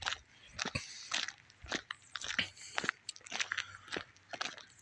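Close, dry chewing of a big beef jerky stick, with repeated crunchy bites and wet mastication in an uneven rhythm for several seconds, no talking.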